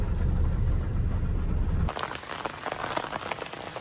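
Rain falls on a farm road by an oil palm field, a low vehicle rumble under the downpour at first, then giving way to a crisp, steady patter of drops close by.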